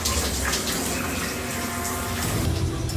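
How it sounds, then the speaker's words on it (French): Shower water pours in a continuous, loud, close hiss, dense and unbroken for the whole stretch with no voices over it. "Là, moi, je suis dans la douche."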